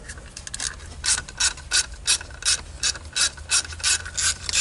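A ratchet backing out a screw from the distributor rotor of a 2001 Chevy Express van, about ten rhythmic clicking bursts close up, each a quick rasping ratchet stroke.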